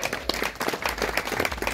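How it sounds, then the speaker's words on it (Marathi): An audience claps together to welcome a woman onto a stage at a Marathi devotional gathering, a dense, steady crowd applause at close range with faint voices mixed in. "आज ताईंचं सर्वांनी टाळ्या वाजवून स्वागत करा."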